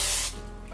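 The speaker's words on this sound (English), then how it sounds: "you're gonna wanna spray it with a little bit of cooking spray" A short, loud hiss of an aerosol cooking spray can, lasting about a third of a second before cutting off into quiet room tone.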